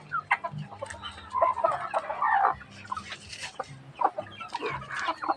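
A black chicken clucks in repeated short bursts outdoors among other farm fowl, fairly close, with irregular calls over a faint background.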